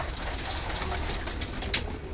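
Racer pigeons coo softly against a steady, noisy background hiss, with one brief sharper sound near the end.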